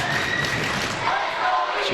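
A high school basketball crowd at a CYO game roars and cheers continuously in a gym, loud and dense, with voices shouting throughout.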